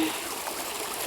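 A stream of cold water runs through a rocky spot, giving a steady, gentle trickle and burble close by with no talking over it.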